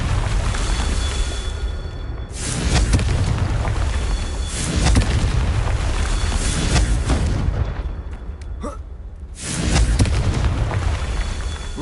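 Confringo fire spell explosions in Hogwarts Legacy, several loud, full-bodied blasts rumbling one after another with a brief quiet gap between them, close and dominant.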